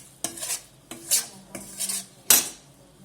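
A utensil scrapes and stirs ingredients for gundpak roasting in a pan, in four sharp metallic strokes at an even pace, close and fairly quiet with no talking.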